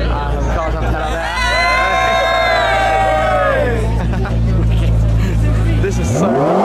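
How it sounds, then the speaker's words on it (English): Rally cars roll out of Edinburgh bound for Manchester through a dense, cheering crowd, engines revving and droning close by under constant loud crowd noise and shouting, with a sweeping pitch rise as a car accelerates away at the end. "Cars are rolling out here from Edinburgh for the journey down to Manchester, and needless to say, it is absolute chaos"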